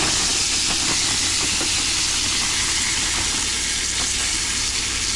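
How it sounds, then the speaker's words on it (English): Chopped mixed onions hit a hot pot for Cajun chicken and sausage okra gumbo, setting off a loud, dense, steady sizzle and hiss that fills the whole stretch without pause. "I got about a cup and a half of mixed onions. Or onion mix. So we'll go ahead and dump that all in there."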